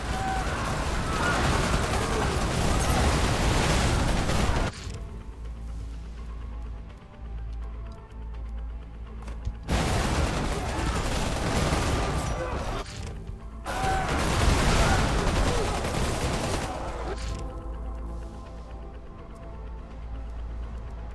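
Combat units opening fire in Dune: Spice Wars, three loud stretches of dense rattling gunfire and mechanical clatter separated by quieter lulls of low ambient hum.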